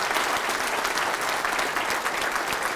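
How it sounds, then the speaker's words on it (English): A crowd gives a loud, dense round of applause for Brian Kilmeade at a Centennial Institute evening event, sustained and even throughout with no speech over it. "Can we give Brian another round of applause here?"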